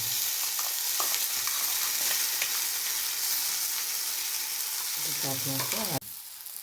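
Bean seed paste and chopped onion fry in hot oil with a steady, bright sizzle and occasional stirring scrapes, ending in a sudden drop to a quieter hiss, with a voice briefly in the background.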